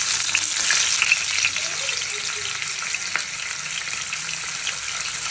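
A silver carp belly piece fries in splattering hot oil, a loud continuous close sizzle with crackling spits and pops throughout, no talking.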